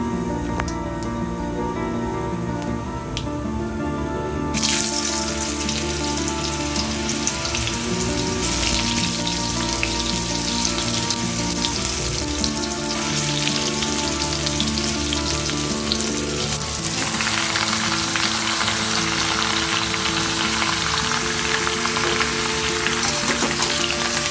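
Raw mango pieces dropped into a hot pan for a sweet mango pickle, the frying hiss rising sharply as the fruit goes in and then holding as a loud, steady sizzle with occasional stirring.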